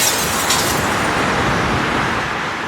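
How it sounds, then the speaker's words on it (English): Glass window breaking indoors during a storm, followed by strong wind rushing through a house: a broad, loud roar of wind noise fills the whole clip, with a brief brighter crash near the start. "Exploding from the dining room was the sound of glass breaking, followed by the rush of a strong wind throughout the house."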